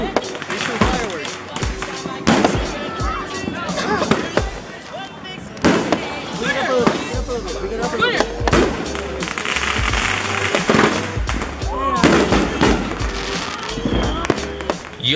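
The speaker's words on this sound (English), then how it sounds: "We shoot fireworks." Rapid firecrackers and fireworks crackle and bang repeatedly nearby on a street block on the 4th of July, mixed with excited crowd voices and people talking throughout.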